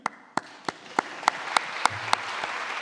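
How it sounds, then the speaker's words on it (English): Audience at a lightning-talk session claps in a slow, sparse series of distinct handclaps, roughly every third of a second, growing into a light background patter. "by a round of applause, who knows Python here?"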